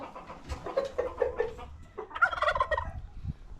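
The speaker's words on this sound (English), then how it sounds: "Well, next is turkeys." Turkeys on a homestead, among them a Royal Palm tom and a black Spanish, gobble in loud, rapid bursts, one rattling call after another with a second pitched-up gobble following close.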